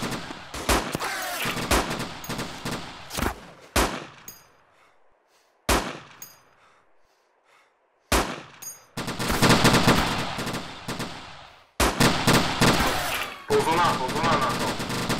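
Machine gun fire in the military game Iron Front comes in loud, close bursts of rapid shots separated by quiet gaps, with some metallic clanks in between.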